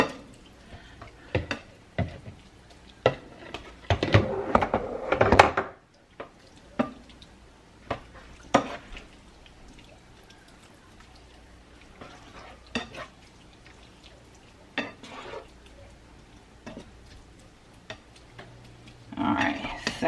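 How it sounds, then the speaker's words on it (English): Ground beef and ground turkey cooking together in a home pan, with soft intermittent sizzling broken by a few sharp scraping stirs and clinks of a utensil, fairly quiet overall. "I'll let that simmer in here."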